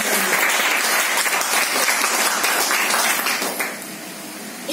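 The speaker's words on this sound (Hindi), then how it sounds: "आई थिंक एक बढ़िया सी तालियां।" Audience applause at a special program marking an international day, a dense, steady roar of many hands clapping together for several seconds, loud and close, easing slightly toward the end with no talking.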